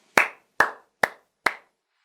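Four sharp hand claps, evenly spaced about half a second apart, loud and close with no voices or other sounds around them.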